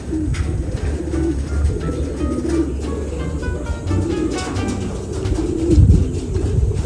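Racing pigeons coo at their loft, low throaty calls that repeat close by over a steady outdoor background, with a louder burst near the end.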